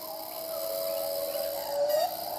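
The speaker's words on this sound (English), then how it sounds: "this is a cicada, a Bornean cicada." Bornean cicada in the rainforest, a sustained steady buzzing tone that holds throughout and swells slightly near the end over constant forest ambience.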